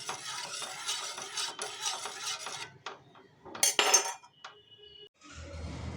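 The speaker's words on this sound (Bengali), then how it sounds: "এবং এটাকে ভালো করে আমি নাড়িয়ে দেবো এবং ভালো করে সমস্ত উপাদানগুলোকে আমি মিশিয়ে দেবো" A liquid plant fertiliser mix for a hibiscus is stirred in a container, giving scraping, clinking rustles that stop, followed by a few faint knocks and a brief louder clatter before a soft wash of liquid sound.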